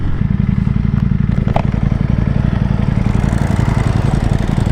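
A Ducati Panigale V4 SP2 sportbike on carbon fibre wheels rides along a road, its engine droning loud and steady with a dense, rapid pulsing, no voices.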